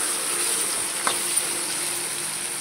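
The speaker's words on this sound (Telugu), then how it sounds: "మనం ఇప్పుడు క్యాప్సికం వేసేద్దాం." Chopped capsicum in a hot pan for an onion, capsicum and egg curry, heard as a steady, fairly loud hiss of frying with one or two faint clinks.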